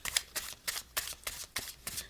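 Several quick riffle shuffles of a deck of cards, crisp bursts in a steady rhythm, close and alone without talking.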